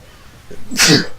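A single sharp human sneeze, brief and close, with a short breathy intake just before it.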